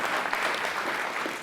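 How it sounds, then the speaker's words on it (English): A crowd at a community safety town hall in Chicago breaks into dense, steady applause with no voices. "you can clap for that."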